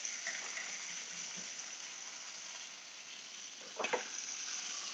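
Soft, steady sizzle of garlic frying in a pan for salt pepper steak, a quiet continuous hiss with a brief stir or clatter near the end and no talking.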